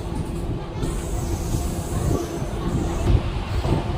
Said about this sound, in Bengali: ঘড়িতে এগারোটা বেজে চুয়াল্লিশ মিনিট আমাদের ট্রেন আজিমগঞ্জ স্টেশন ছেড়ে দিল